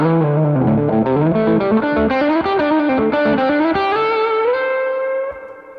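An electric guitar through a Jam Ray overdrive pedal and a 5-watt Carr Trail Rider amp plays a melodic phrase of sustained, gritty notes, ending on a held note that fades out.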